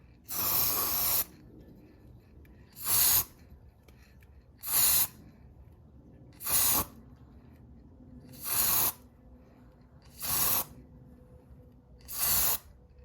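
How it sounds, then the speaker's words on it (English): Seven short bursts of aerosol car lacquer spray onto dynamo magnets, each about a second long, evenly spaced with quiet gaps between, close and crisp. "The last thing is to spray the magnets with car lacquer."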